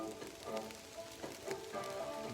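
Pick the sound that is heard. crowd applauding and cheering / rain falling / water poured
rain falling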